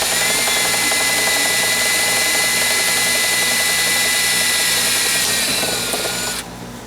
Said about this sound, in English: after I drill a pilot hole like that, it's plastic and it won't hurt nothing